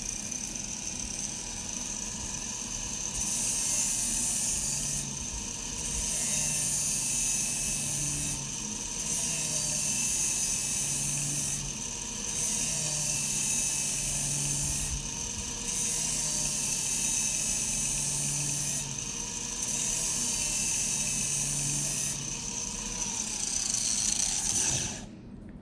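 A grinder sharpens the mower blades of a Hustler Surfer X, running as a constant whine. A harsh grinding rasp swells and fades in repeated passes of two to three seconds each as the blade edge is worked.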